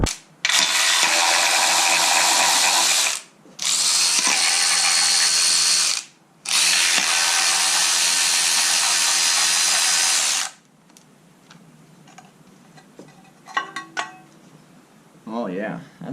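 Power-tool work on the oil pan bolts of a Volvo 145 engine: three long, loud whirring bursts separated by short pauses, then quieter scattered ratchet clicks and small tool knocks.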